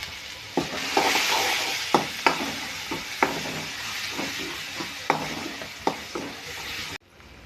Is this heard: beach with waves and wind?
no